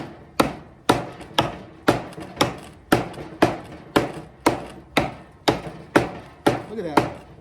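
Fifteen or so sharp, evenly spaced chops ring out as a Viking warrior hybrid axe called The Raven splits and flings wood outdoors, each strike loud and close with a short decay.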